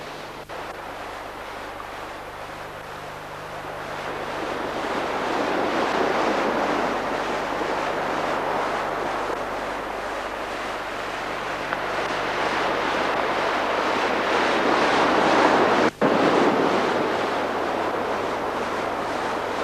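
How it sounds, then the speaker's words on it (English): Waves wash up and down a beach, with a continuous broad roar of surf rising and falling over the whole stretch and wind buffeting the microphone. "movement up and down the beach in one place due to the swash and backwash of waves"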